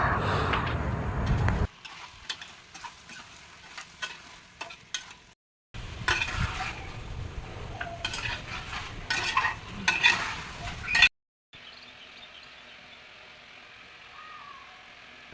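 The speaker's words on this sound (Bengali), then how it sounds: "বিরিয়ানির মাংসটা ভালোভাবে কষানো হয়ে গেছে।" Biryani meat frying in a pot as it is stirred, heard in separate segments: a steady soft sizzle with scraping and clinks from the spoon, broken by short silent cuts.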